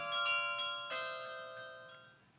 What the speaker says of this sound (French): Un carillon qui rythmera encore longtemps les heures de cette vallée